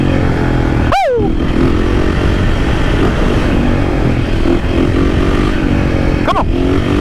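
A supermoto motorcycle's engine drones loud and close while riding through city streets, steady throttle with brief rising rev sweeps near the start and end, and no voices.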